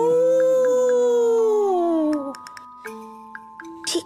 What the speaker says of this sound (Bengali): দূর থেকে কুকুর কাঁদছে